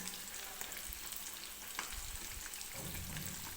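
Samosas deep-frying in hot oil until crispy, a steady close sizzle and bubbling hiss with soft stirring bumps, no voices over it.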